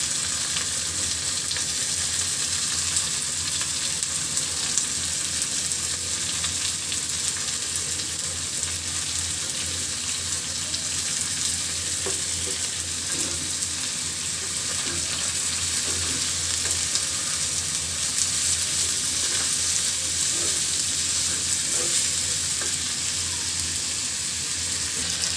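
Whole garlic cloves and a handful of onion fry in hot oil in a pan for a spicy fish bharta, a steady loud sizzle with occasional stirring scrapes and no talking.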